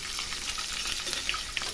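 Two finely chopped medium onions fry in oil, a steady, close, crackling sizzle with small pops throughout and no voices.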